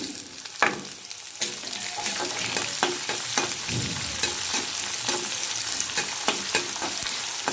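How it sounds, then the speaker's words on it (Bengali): Chopped onion fries in a pan with a bright continuous sizzle, broken by repeated spatula scrapes and knocks as it is stirred up close. "পেঁয়াজটাকে ভালো করে ভেজে নেব"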